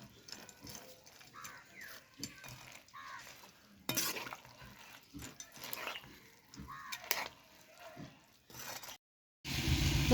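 Bundia sweets stirred and dunked in sugar syrup, with soft wet scraping, clicking spoon taps and gentle sloshes, close and fairly quiet, with a louder clatter near the end.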